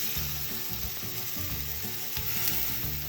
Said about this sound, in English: So we're ready to start cooking the meat here.